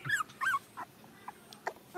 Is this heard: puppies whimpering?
yes